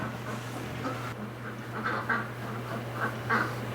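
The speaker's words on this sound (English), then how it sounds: "More ducks on the deck, and then Doug gets between me and the door." Several ducks on a deck in winter quack repeatedly in short bursts, nearby and moderately loud, over a steady low background hum.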